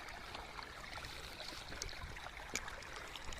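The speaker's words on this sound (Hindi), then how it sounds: "पानी लग गया सरसों में" Irrigation water flowing from a channel into a mustard field, a faint, continuous trickling and gurgling heard alone in a quiet outdoor setting.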